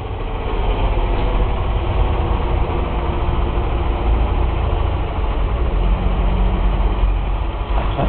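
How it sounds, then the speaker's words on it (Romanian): A cash-transport van's engine idles steadily after being jump-started by a tractor, a loud, continuous low rumble with no break, alone without talk. "mașină de transport valori pornită cu tractorul"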